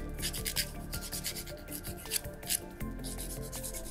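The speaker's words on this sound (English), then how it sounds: "take the hand file again and just reshape the both sides" Hand file rasping back and forth across the sides of a fingernail during backfill shaping, steady close scraping strokes with a few sharper accents and no talking.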